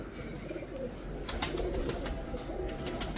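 Pigeons kept by a Punjabi pigeon-flying hobbyist coo softly and repeatedly nearby, with faint background noise and no speech.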